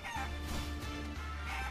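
Game chicken in Guacamelee! 2 clucking and squawking in short bursts over a steady low game soundtrack, with no talk.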